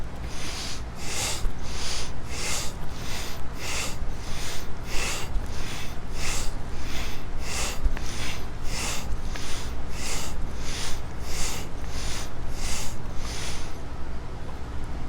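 Steady, evenly paced breaths drawn in and pushed out during a controlled breathing exercise, about fifteen rhythmic cycles close to the mic over a constant low hum, no talking.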